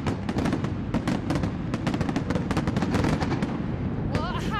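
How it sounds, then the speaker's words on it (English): Fireworks crackle and pop in Red Square during New Year celebrations, a dense rapid volley of loud close bangs and snaps, with distant cheering and voices beneath. "Saskia, I can hear the fireworks crackling away in the background."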